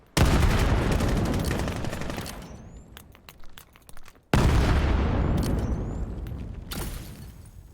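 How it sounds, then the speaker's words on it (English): Bursts of gunfire from the VR shooter game Vail during a competitive match, two loud rapid volleys of shots each trailing off, with a few scattered single shots between them. "Shots coming out from Scooby."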